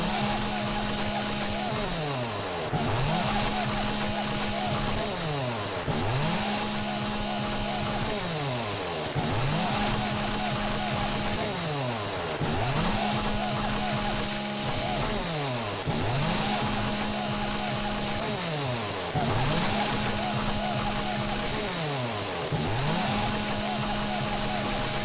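A chainsaw runs in the video game 7 Days to Die, its engine repeatedly revving up and dropping back in a steady cycle every few seconds, loud and continuous with some talking underneath.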